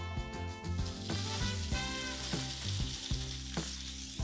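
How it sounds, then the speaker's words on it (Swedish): Gyoza frying in oil in a pan, giving a steady, close sizzle that runs unbroken through the whole stretch over a tonal background. "Vi börjar med att låta gyozan få en liten stekyta i oljan."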